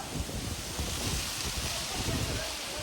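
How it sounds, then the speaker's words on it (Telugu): Strong wind tearing across the top of a coconut palm, a steady close roar buffeting the microphone for the whole stretch with small surges and no letup. "చూడండి ఎంత గాలి వేస్తుందో."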